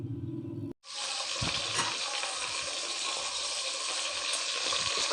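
Food frying in a non-stick pan: after a short pause, a loud, dense and steady hiss of sizzling oil takes over and continues unbroken, close up.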